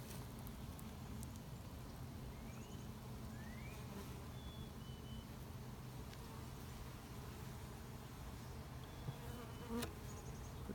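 Honey bees buzz in a low, steady drone while being hived, carrying on throughout, with a few faint chirps drifting in from the distance.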